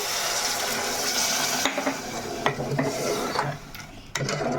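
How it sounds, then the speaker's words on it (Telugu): Water is added to a pot of mutton curry and stirred, giving a close wet sloshing wash with scattered scrapes and clinks of a spoon against the pot, and no talk. "ఇప్పుడైతే వాటర్ అయితే వేసుకుందాము"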